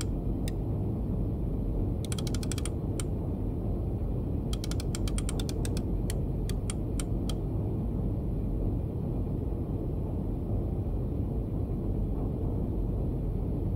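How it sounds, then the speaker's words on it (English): The rotors of an Enigma machine in the Wolfpack submarine game are clicked into position, giving quick bursts of small ratcheting clicks in two clusters plus a few single ticks over a constant low mechanical hum. "Set the rotors to a random order,"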